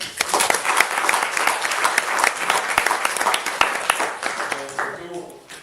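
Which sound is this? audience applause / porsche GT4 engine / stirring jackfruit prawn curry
audience applause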